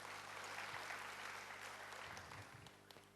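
A church congregation gives a round of applause during a sermon. The clapping is steady and moderately distant, with many hands blending into a soft, continuous patter.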